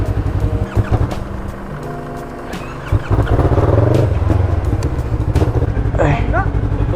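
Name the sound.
Yamaha MT03 motorcycle engine running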